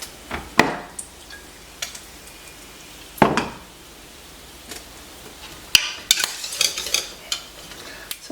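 Small pancakes fry in a hot pan, making a soft continuous sizzle broken by several sharp utensil clicks and scrapes, with a brief bright metallic tapping near the end.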